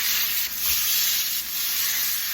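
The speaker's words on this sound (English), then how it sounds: "heat up more oil in the pan. When you drop the chicken in," Cajun stuffed chicken dropped into hot oil in a pan, giving a loud, steady, close sizzle and crackle of frying that carries on without a break and with no talking.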